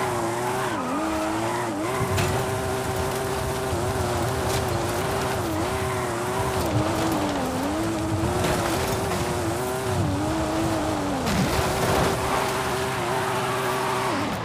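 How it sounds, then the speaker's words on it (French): Formula Drift race car drifting through the Barrancas in Forza Horizon 5, engine droning loud and steady with wavering pitch as tires squeal and skid continuously throughout, no talking. "c'est ici qu'il faut faire les drifts"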